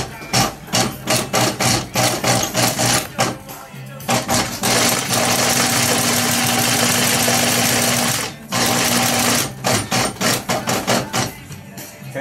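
Leather sewing machine stitching around a journal corner, loud and close, running in short rhythmic bursts, then a long continuous run, then more stop-start bursts as the workpiece is turned.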